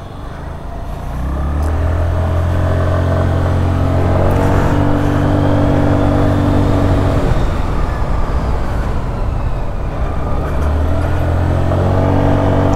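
Hero Xoom 110cc scooter (2023) ridden at speed, its engine droning steadily with harmonic tones that rise and settle, loud and close over continuous wind and road rumble, no talk.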